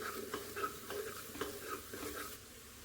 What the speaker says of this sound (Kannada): ಇದು ಸ್ವಲ್ಪ ಹುರ್ಕೊಳ್ಳೋಣ, ಮಸಾಲೆ ಎಲ್ಲ ಮಿಕ್ಸ್ ಆಗಲಿ